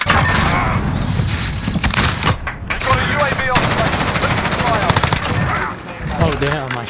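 Rapid bursts of video game gunfire, with automatic weapons rattling in dense volleys and louder single shots, fill the clip while a player talks and exclaims over the action.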